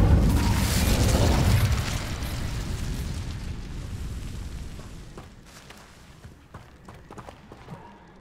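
A fiery Incendio spell from Hogwarts Legacy bursts with a loud, roaring whoosh in the opening seconds, then trails off into a crackling, rumbling decay with scattered small pops and bangs.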